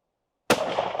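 A single Christensen Arms Ridgeline rifle in .30-06 fires once, a sudden loud close crack after silence followed by a short rolling outdoor echo.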